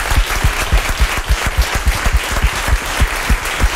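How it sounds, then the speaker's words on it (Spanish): Steady clapping from a crowd, dense and rhythmic, close and fairly loud, with no voices over it. "Aprovecho para pedir un aplauso a la gente técnica"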